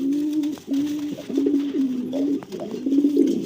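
A male pigeon with red eyes cooing in repeated low, rolling phrases close by, with brief gaps between calls and faint background noise.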